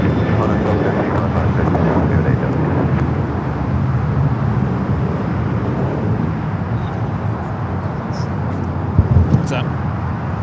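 A heavy airliner takes off from runway 25 right at Los Angeles International Airport, its engines a steady, broad roar that holds at constant loudness throughout.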